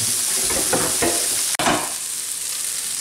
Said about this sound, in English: And you're gonna mix it well. Let carrot cook for a while